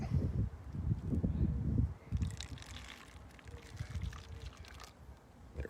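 Water is poured into a water bottle rocket: a full gurgling pour for about two seconds, then lighter intermittent trickles and splashes, close and fairly quiet.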